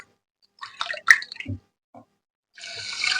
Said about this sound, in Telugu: ఒక గ్లాస్ పంచదారకి రెండు గ్లాసుల వాటర్ వేసుకుంటున్నా